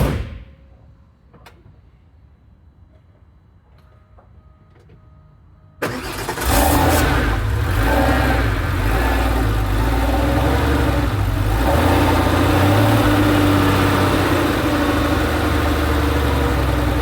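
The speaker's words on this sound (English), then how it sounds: "There you have a second cold start on the 95 cab." A 1995 Porsche 993 Cabriolet fires up from an ice-cold start after a few quiet seconds of faint clicks, then settles into a loud, steady, close idle with a slightly uneven rumble throughout.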